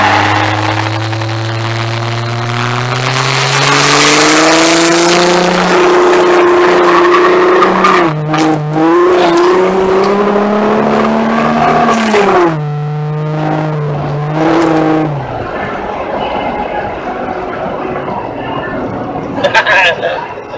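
A 1997 Ford Mustang doing a burnout: a loud engine rev climbs and holds at high pitch, dips and surges again with screeching tire squeal, then drops away into rumbling noise near the end.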